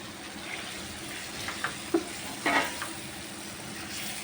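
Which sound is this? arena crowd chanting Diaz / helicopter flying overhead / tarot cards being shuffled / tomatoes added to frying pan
tomatoes added to frying pan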